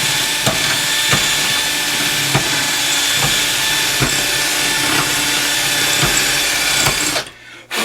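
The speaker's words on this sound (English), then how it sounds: "yes, I'm using crappy drill bits for this. I'm not using good drill bits to auger like this." A power drill with a cheap bit augers out ball joints for an AMC Eagle, loud and continuous, grinding through material with periodic knocks, then cuts off abruptly near the end.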